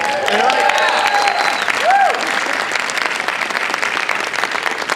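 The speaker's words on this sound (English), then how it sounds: "Give her a round of applause." An audience at a live science demonstration claps steadily in a dense, sustained round of applause, with a few faint whistles early on.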